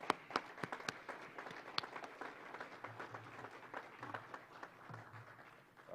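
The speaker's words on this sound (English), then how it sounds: "Let's all give them a round of applause." Faint, scattered clapping from a small crowd at a faculty and staff retirement reception, sharp individual claps at first thinning to a soft patter, with low murmuring in the background.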